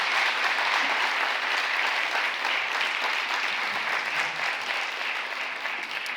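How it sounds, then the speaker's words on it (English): At a symposium, a seated audience applauds again in a continuous, even burst of many hands clapping, loud and sustained for over six seconds and tapering slightly at the end. "Let's just give them another round of applause"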